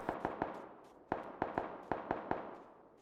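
Gunfire in the battle game PUBG on Xbox One X: about ten sharp, cracking shots in irregular bursts, each fading quickly, moderately distant and fairly quiet, with no talking.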